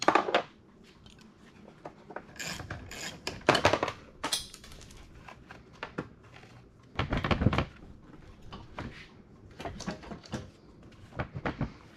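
Hand ratchet clicking in short bursts while tightening bolts during an ATV repair, with scattered metallic clanks and tool handling at close range.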